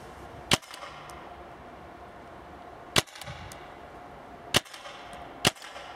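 A Tippmann A5 paintball marker with a 16-inch barrel fires four sharp, loud pops at irregular intervals, each a crisp crack standing alone over a faint outdoor background.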